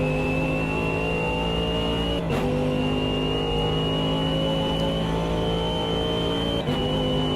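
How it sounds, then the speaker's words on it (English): A race car engine in the Automobilista 2 driving game holds a loud, sustained high-pitched whine at near-constant revs. It dips briefly twice, as if on gear changes, then climbs straight back to its steady scream. "It's just because this car's quite loud in my headphones."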